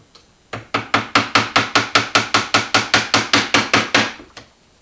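About fifteen rapid, evenly spaced hammer blows drive a brad nail held in a piece of cardboard, each strike a sharp, close tap in a quick, steady rhythm before it stops.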